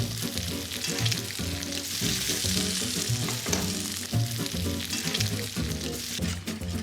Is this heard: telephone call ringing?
no